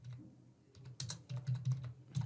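Fingers type a phone number into an online form on a computer keyboard, giving uneven bursts of crisp, close keystrokes with short pauses between them.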